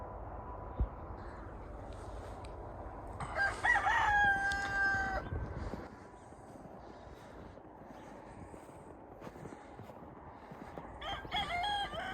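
Roosters perched in a tree above snowy ground crow loudly, one clear cock-a-doodle-doo early on and another starting near the end, with quiet outdoor background between.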